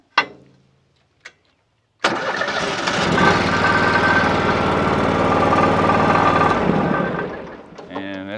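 Vehicle engine cranking and catching on a JFEGWO 6000A jump box: two faint clicks, then the engine fires and runs steadily at a loud, close idle for several seconds before easing off.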